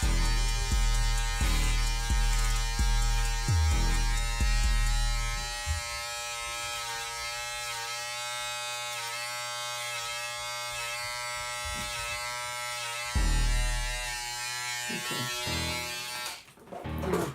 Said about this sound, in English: And then I start to shave.